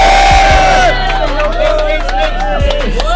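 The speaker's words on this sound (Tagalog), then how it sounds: "pinakalas ng sigawan para sa Sunugan Kalye" A crowd at the Sunugan Kalye Filipino rap battle in Batangas roars and cheers loudly, a dense swell of shouting voices that stays strong and close for the whole stretch.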